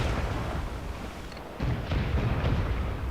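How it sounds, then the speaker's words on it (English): Mortar fire pounds a fort in the video game Assassin's Creed 4, a loud continuous rumbling barrage of heavy booms with a fresh surge of impacts partway through. "it's time to start laying in the mortars"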